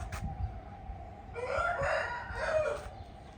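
A rooster about 1.8 years old gives a single drawn-out crow lasting around a second and a half, clear and fairly near, with a few low clucks just before it.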